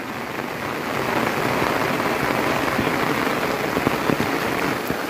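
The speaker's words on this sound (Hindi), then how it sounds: "मूसलाधार एकदम तेज बारिश हो रही है।" Heavy, torrential rain pours down in a dense, continuous roar, loud and close, building slightly after the first second and holding steady.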